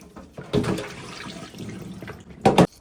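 Seaweed stems are rinsed in water to wash off their salt, giving close sloshing and splashing in a couple of bursts, the louder one near the end.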